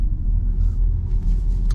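A Porsche 992 sports car passes with a steady low engine and road rumble at close range, holding fairly loud and even throughout with no talk.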